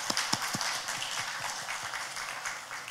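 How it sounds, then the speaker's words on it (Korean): A church congregation gives a short, fairly soft round of applause, with a few sharp individual claps standing out near the start before the clapping thins and continues at a moderate, steady level. "우리 따뜻한 격려와 축복의 박수 한번 주시기 바랍니다."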